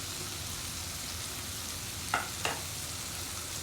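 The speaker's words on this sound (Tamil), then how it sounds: "நல்லா கிளறி விடுவோம்" Spicy dry-fried chicken sizzles steadily in a hot pan while being stirred, with a constant frying hiss and two sharp scraping clinks of the spoon partway through, close and fairly quiet with no talking.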